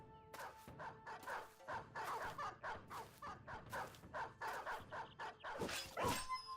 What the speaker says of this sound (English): Sounds like there's a lot of dogs on their end.